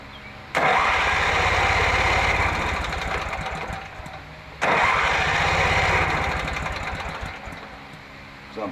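A lawn mower engine with a blown-out muffler cranks and sputters in two long attempts, each catching with a loud buzzing roar that gradually fades, separated by a brief pause.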